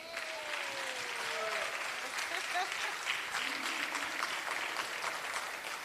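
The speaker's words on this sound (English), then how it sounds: "So clap for Africa." Audience applauding in a hall during a youth business awards ceremony in Africa, a steady dense wash of clapping throughout with faint tones and murmurs mixed in.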